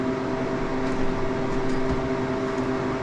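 A home freeze dryer machine running, a steady droning mechanical hum with constant tonal whine, close and even throughout with no talking.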